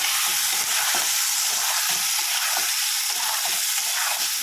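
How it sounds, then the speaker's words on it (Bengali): Potatoes seasoned with salt and turmeric fry in oil, a loud, dense, continuous close sizzle with a rough hiss and faint stirring underneath, and no talking. "আলুগুলো দিয়ে দিলাম আলুগুলোতে নুন হলুদ দেওয়া আছে এবার ভেজে নেবো ভালো করে"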